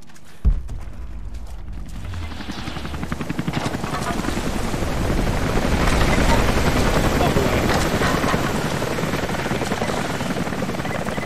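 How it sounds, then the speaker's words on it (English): A helicopter in Rise of the Tomb Raider beats loud and close, its rapid rotor chop building after a sharp thud and holding steady, with voices shouting over it. "Get away from the chopper!"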